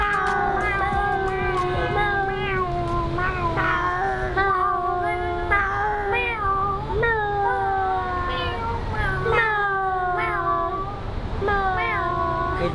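Several cats meow repeatedly at a cat cafe, with rising and falling calls overlapping one after another above a steady, busy room hum.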